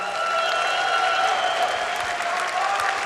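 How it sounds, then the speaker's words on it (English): Sustained crowd applause at a match between Maru and MC, a dense wash of clapping from a large audience, steady and loud from start to finish. "Give it another big round of applause, everyone."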